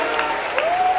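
An audience applauds at a poetry gathering, with dense, steady clapping throughout the short clip and a faint tonal sound above it.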